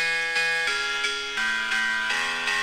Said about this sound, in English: So when we do a tom roll